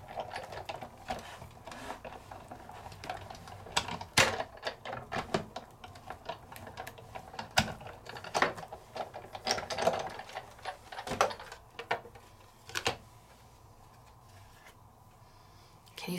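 A Sizzix die-cutting machine is cranked as a die in an embossing folder on a base plate rolls through, giving a continuous close grinding of gears and ratcheting clicks with sharp knocks, easing off near the end.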